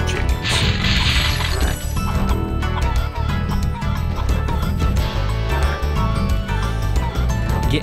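Chickens clucking and squawking in the Spyro the Dragon video game, scattering amid game music, crashes and other effects, loud and busy throughout.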